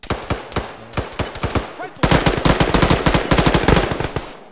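Rapid rifle gunfire in ArmA 3 during close-quarters room clearing, sharp repeated shots in quick bursts, with a denser, louder volley in the second half.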